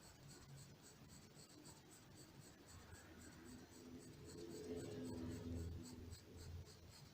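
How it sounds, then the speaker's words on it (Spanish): Graphite H pencil shading softly back and forth on paper in a steady, quiet scratching rhythm, close and low in level, with faint room hum beneath. "Vamos pasando el lápiz suavecito ahí, vamos metiendo en el papel"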